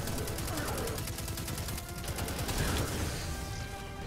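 Rapid gunfire rattles through a battle in the Destiny 2 video game, a fast steady stream of shots, fairly quiet and continuous under other game noise.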